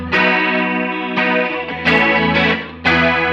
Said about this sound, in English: let's do the Plasti chorus